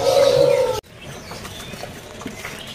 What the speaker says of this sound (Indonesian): Untuk hari ini kita akan review burung cicak hijau nih.